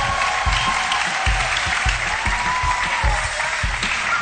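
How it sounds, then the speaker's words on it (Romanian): A comedy club audience claps loudly to welcome a returning former iUmor finalist onto the stage. The applause is dense and continuous with a few sharp claps standing out near the front, and nobody speaks over it. "Aplauze"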